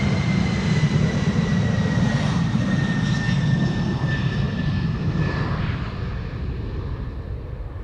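A jet airliner departs Amsterdam Schiphol Airport, its loud steady engine roar and whine holding strong and then slowly easing as it pulls away, with no voices.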